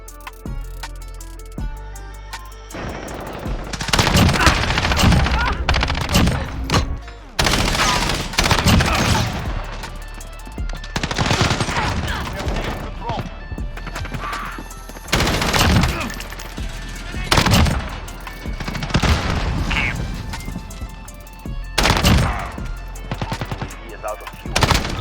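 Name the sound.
automatic rifle gunfire in Call of Duty Modern Warfare video game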